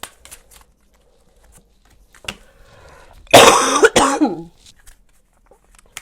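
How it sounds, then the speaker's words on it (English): A single short burst of coughing from one person, loud and close, standing out alone in an otherwise quiet indoor space with only faint shuffling around it. "I'm not off to a great start. I'm already coughing."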